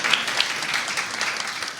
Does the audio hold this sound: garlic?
no